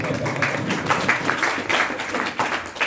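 Audience applause fills a short stretch, a dense, steady patter of many hands clapping at moderate loudness from a crowd, with no speech over it.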